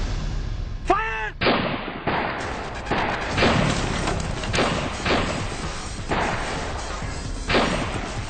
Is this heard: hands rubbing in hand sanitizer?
no